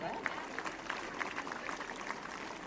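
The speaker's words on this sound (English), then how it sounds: "Please clap." Students clap for solemn-looking teachers at a school's annual sports meet, a faint, steady patter of many hands that rolls on without pause across the whole stretch.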